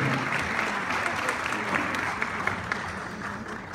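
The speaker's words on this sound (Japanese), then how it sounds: "大きな拍手でお迎えください。" Warm, continuous applause from a seated audience at a Japanese jewelry best-dresser awards ceremony, welcoming a presenter. The clapping stays steady for nearly four seconds with a few sharper claps standing out.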